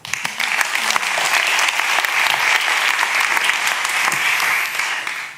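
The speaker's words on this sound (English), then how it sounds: "A warm round of applause for Mirke Kist," A conference audience breaks into warm, sustained applause, dense and steady for several seconds before tapering off at the end, with no voices over it.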